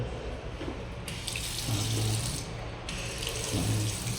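Water running from a sensor faucet into a sink, a steady close splashing stream that rises in spurts as the flow starts and stops, with no talking over it.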